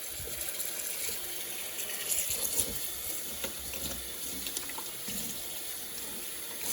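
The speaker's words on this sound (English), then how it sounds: "Pour in some cold water and soak it in that." Cold water pours steadily from a tap into a container to soak a gray fox hide, a continuous close gushing and splashing with no pauses.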